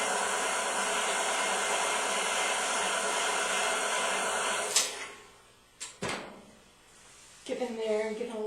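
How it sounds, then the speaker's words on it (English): An electric mixer whirs on high, beating cake batter for a Doberge cake. The motor runs steadily, then cuts out amid clunks and handling noises before a voice speaks at the end. "I'm going to kick the mixer up on high or higher"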